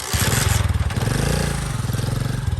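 A motorcycle being wheeled out and run in a village, its engine throbbing close by in a steady, rapid pulse that swells slightly midway and continues throughout with no talk.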